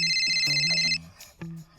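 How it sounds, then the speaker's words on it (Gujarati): A phone ringtone rings loud and steady for about a second, then cuts off as a voice and other sounds follow. "તે મને ફોન દીધો ને ભેગી રિંગ વાગી"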